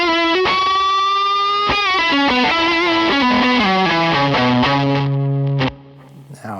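An electric guitar runs through a Throne of Tone overdrive pedal that drives its high-gain side. A saturated, distorted run of descending notes plays loud and unaccompanied, then cuts off to brief muted noise at the end.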